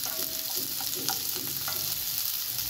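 Sliced onions frying in a pan hiss with a constant soft sizzle, punctuated by faint scraping stirs and small pops, quiet and steady throughout.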